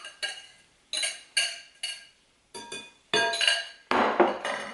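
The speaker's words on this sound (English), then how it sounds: "now I'm going to dump the wet ingredients into the dry" Wet chocolate cupcake batter ingredients tipped from glass and metal containers into a bowl of dry ingredients, heard as a series of close clinks, knocks and scrapes in separate bursts, with a louder clattering pour near the end.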